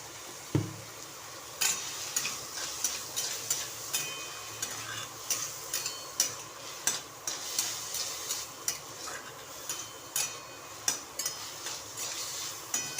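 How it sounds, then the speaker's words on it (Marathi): Raw tomato chutney cooks in a pan while a utensil stirs it, giving repeated scraping strokes at a steady pace over a continuous soft sizzle, close by, with no talking. "आता हे पहा, अशी चटणी शिजत आलेली आहे."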